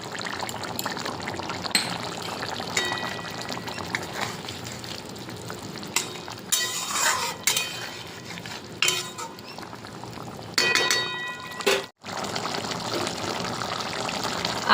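Soaked cumin and coriander powder water poured into a simmering catfish oil curry, a steady hot sizzle with bursts of bubbling and spoon scrapes, continuous and close, no voices.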